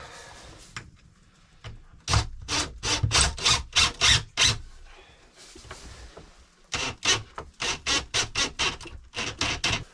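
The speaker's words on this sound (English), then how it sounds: "I'm going to put the screw in" A screw is driven by hand into the plastic housing of a Renogy 40 amp MPPT charge controller, giving close, rhythmic rasping turns in two quick runs separated by a short pause.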